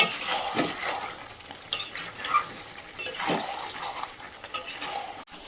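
Chicken curry being stir-fried in oil in a pan on a gas stove, a steady close sizzle broken by repeated scrapes and clinks of a metal spoon stirring, with no talking.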